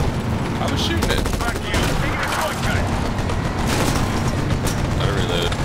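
Sustained gunfire from Medal of Honor (2010), Bagram mission, with dense, continuous rattling shots and mechanical clatter filling the whole stretch at steady loudness, a voice briefly audible amid the battle.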